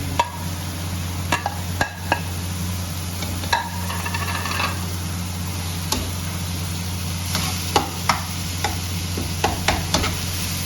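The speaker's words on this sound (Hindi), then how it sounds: "अच्छी तरह भून लें।" Masala for keema karela frying in a pan with green chilies, mango and pomegranate-seed chutney and garam masala, a steady low sizzle broken by repeated scrapes and clicks of a spoon stirring, close and moderately loud with no talk.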